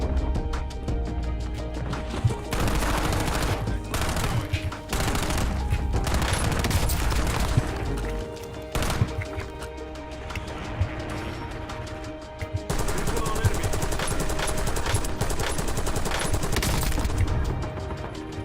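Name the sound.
gunfire from a player shooting in a video game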